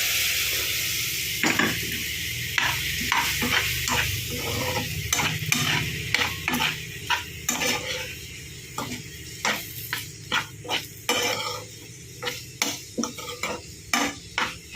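Potatoes cooking in hot oil for a Kerala-style mezhukkupuratti, a steady background sizzle under sharp, repeated spoon scrapes and taps against the pan that grow more rhythmic and spaced toward the end, close and fairly loud.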